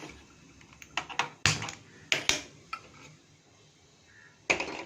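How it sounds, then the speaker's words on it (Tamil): A metal pressure cooker set down on a gas stove in a home kitchen while cooking hotel-style chicken kuruma: several sharp, close clanks and clatters in irregular bursts, with quiet pauses between them. "ஒரு குக்கரை ஸ்டவ்வில் வச்சிடலாம்"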